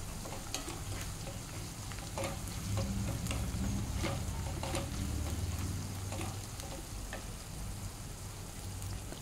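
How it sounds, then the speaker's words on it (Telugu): Ginger garlic paste frying in a pan for prawns dum biryani, being stirred with a continuous loud sizzle and repeated scraping strokes throughout, with no voices. "అల్లం వెల్లుల్లి పేస్ట్ వేసి బాగా కలపండి."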